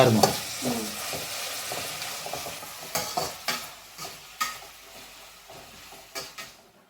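Pasta with onion and tomato is stirred in a sizzling pan: a soft frying hiss runs underneath while a utensil scrapes and taps against the pan in repeated close strokes.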